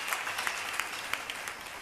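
A theatre audience at an award ceremony in Almagro applauds, a continuous patter of many hands at moderate distance, fairly quiet and even.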